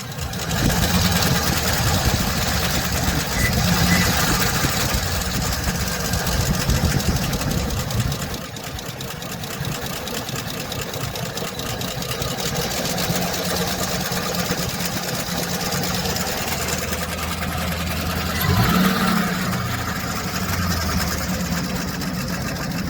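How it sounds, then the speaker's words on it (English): A 2007 Chevy Express 3500 van engine idling with a lifter tick: a loud, steady idle with a fast, even ticking tapping over it, close by and continuous throughout. "We're back on part 2 on the van, working on that lifter tick."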